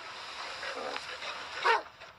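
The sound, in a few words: dogs barking on a beach in a documentary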